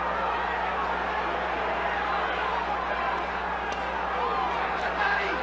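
Boxing crowd at a fight, a dense murmuring roar of spectators building steadily, with a commentator talking over it.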